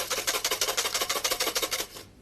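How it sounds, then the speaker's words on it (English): Rapid, rhythmic metallic clinking, like small metal clips shaken in a container, steady for about two seconds before stopping. "Metal paper clips. That's what makes the noise."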